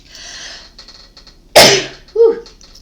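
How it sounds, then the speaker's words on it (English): A single loud, close human sneeze bursts out of a quiet background, followed by a short vocal sound just after. "I sneeze."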